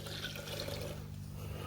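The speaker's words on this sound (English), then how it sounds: "in here is my diluted sulfuric acid from my sulfuric stripping cell. I'm going to pour it in." Diluted sulfuric acid from a sulfuric stripping cell being poured, giving a continuous, gentle trickling splash under a low steady hum, close and fairly quiet.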